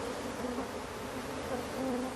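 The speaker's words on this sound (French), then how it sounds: "Ces abeilles cache-sexe ne sont pas dangereuses." Bees swarming in a dense, continuous buzzing drone, close and loud, steady throughout with no voices.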